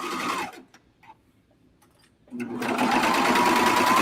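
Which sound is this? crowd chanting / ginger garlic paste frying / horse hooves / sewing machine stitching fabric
sewing machine stitching fabric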